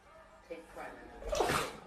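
Close indoor sneeze from a pet, one sharp burst rising to a peak near the end, preceded by a smaller snort, with a voice nearby.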